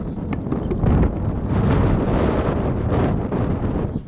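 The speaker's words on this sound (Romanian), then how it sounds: "Bate vântul din spate." Heavy, steady wind buffeting the microphone outdoors at a horse event in Acâș, Satu Mare, Romania, a loud low rumble that swells and eases throughout, with no one speaking.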